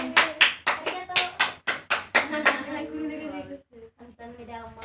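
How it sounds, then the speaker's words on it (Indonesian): Classroom clapping during a biology microteaching lesson: about ten strong, evenly spaced claps ring out close by, then give way to voices talking. "Tepuk tangan."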